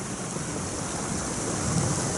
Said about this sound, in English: drizzling.